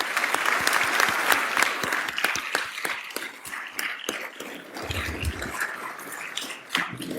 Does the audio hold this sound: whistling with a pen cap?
no